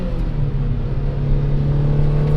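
A Mazda MX-5 Miata, NB-powered and track-ready, hums along with a steady engine drone that rises gently as it rev-matches through a downshift, continuous and close with no talking.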